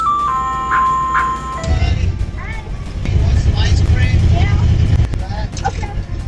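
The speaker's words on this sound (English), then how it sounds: "Late night ice cream trucks." A late-night ice cream truck plays its tinkling melody loudly for a moment, then a low engine rumble takes over with scattered noises and voices.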